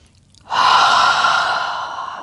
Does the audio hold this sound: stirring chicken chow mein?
no